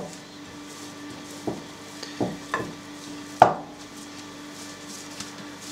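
Bread dough being kneaded and pressed into an oiled baking tin by oiled hands, a few soft, scattered thumps and squishes over quiet background hum.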